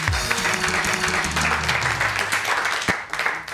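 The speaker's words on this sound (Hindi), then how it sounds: "और इन मामा के लिए तालियां होनी चाहिए।" Studio audience claps on a morning television talk show, a full burst of applause with a low tonal hum underneath that fades slightly near the end.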